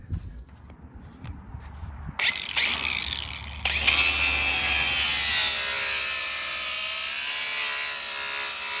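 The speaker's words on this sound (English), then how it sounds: "I'm gonna try my grinder." A cordless grinder running on an 18 to 20 volt battery adapter cuts through a drain pipe, with handling clatter first, then the motor spinning up into a loud, sustained high-pitched whine as the disc bites into the pipe.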